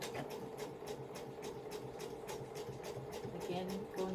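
A sewing machine stitches cross box pleats into a bag, running with a fast, steady mechanical chatter, faint and continuous, with a voice speaking over it.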